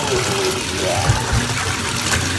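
Steady rushing and trickling water filling a bathtub as a bath bomb dissolves, a constant close wash of sound with some faint voice-like tones mixed in.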